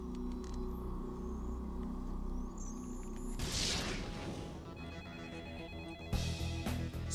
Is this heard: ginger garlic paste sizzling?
no